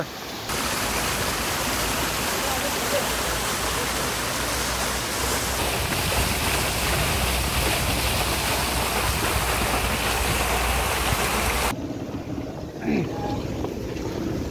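Steady, loud rushing of a clear river near Tatopani, Nepal, fills the whole stretch, a dense continuous roar that drops away abruptly near the end.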